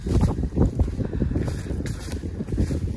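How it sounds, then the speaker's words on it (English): Four-wheeler ATV riding along a fence line on a shed-antler hunt, its engine a steady close rumble that runs through the whole stretch, mixed with buffeting wind noise on the microphone. "Riding the four-wheeler down the fence, just spotted one."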